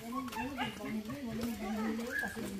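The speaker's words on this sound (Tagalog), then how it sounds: "Ayan na yung mga aso." Dogs on a farm in the countryside, with whimpers and yips close by, mixed in with steady talk from people nearby throughout.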